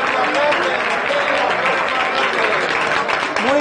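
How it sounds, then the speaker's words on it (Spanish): Crowd applause at a street protest in Murcia: steady, dense clapping from many people throughout, with voices mixed in among the noise. "Un aplauso."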